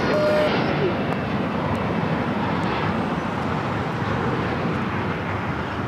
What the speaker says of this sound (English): China Airlines cargo 777 freighter heading to the 25s